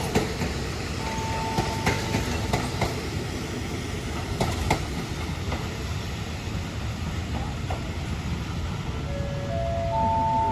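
Air-conditioned express train 43 pulling into Bang Sue Junction station in Thailand, a steady low rumble of rolling stock with faint wheel clicks and a few brief tonal squeals, heard alone at moderate distance.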